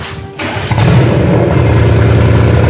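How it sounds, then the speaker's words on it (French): A Mercedes-AMG GT R with a freshly reinstalled engine cranks loudly and continuously up close, a dense mechanical churn that keeps going without settling into a clean idle. "Le moteur est remonté mais elle ne veut pas démarrer."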